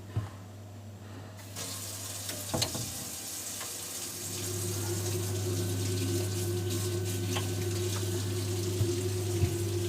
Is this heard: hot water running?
yes